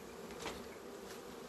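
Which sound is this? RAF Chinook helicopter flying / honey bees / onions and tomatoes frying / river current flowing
honey bees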